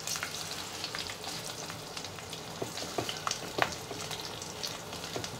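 Whole spices such as green chillies, cashews, black peppercorns, cumin and curry leaves sizzle steadily in ghee, a close continuous crackle with scattered sharper pops and occasional stirring, no voices.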